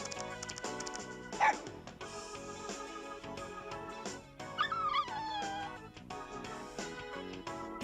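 A dog in the Persona Q video game barks in short yips and lets out a high, wavering whimper midway, heard over continuous game music.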